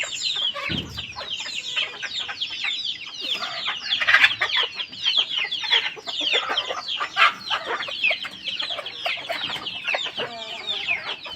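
Multicoloured rooster and hens cluck continuously and busily nearby, overlapping clucks and squawks filling the air with one brief low thump early on.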